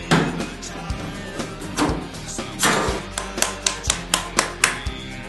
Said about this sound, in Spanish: podemos comenzar a proceder con el martillo estratégico